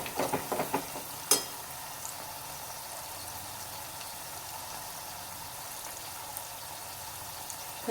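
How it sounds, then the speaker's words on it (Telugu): Soft sizzle of turmeric frying with softened onions and chillies in hot oil for a taro curry, a few sharp utensil knocks at the start, then a quiet, steady hiss close by. "ఒక టీ స్పూన్ పసుపు అయితే వేసుకుంటున్నాను దీన్ని కూడా ఆయిల్లో మంచిగా కలుపుకోవాలి"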